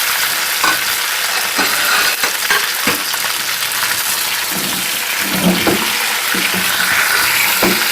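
Chicken fries and is stirred in a karahi for Balochi chicken karahi, a loud continuous close sizzle with intermittent scraping and stirring knocks throughout, no speech.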